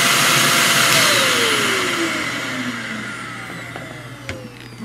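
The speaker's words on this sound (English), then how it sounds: "so we'll turn it on. And that's it. Suction right there." Greenote corded stick vacuum cleaner running, a loud airy whine that slowly fades and drops in pitch as the motor winds down, with a few faint clicks near the end.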